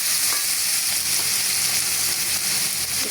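Onions, green chilies and tomatoes frying in hot oil give a loud, steady sizzle with a constant crackling hiss throughout, close and uninterrupted, with no talking.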